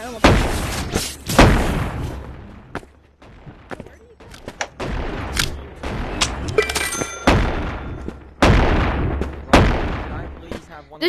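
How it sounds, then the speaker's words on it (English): Shotgun blasts in the VR game Animal Company, loud booming shots at irregular intervals, some in quick bursts, with voices talking over the gunfire. "This shotgun's not infinite."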